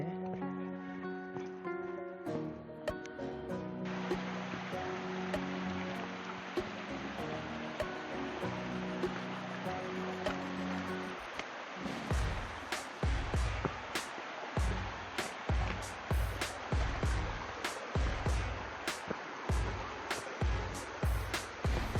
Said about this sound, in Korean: 아, 물소리 정말 시원이 들리죠?